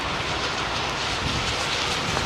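Engines of a Virgin Atlantic airliner roar in thrust reverse during landing roll at Heathrow, a loud, dense, continuous broadband rush heard from inside the cabin.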